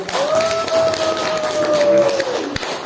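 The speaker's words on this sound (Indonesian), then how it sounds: "Kita beri tepuk tangan dulu lagi untuk" Classroom applause from students clapping in a room, a run of sharp hand claps close by, while a voice speaks over the clapping.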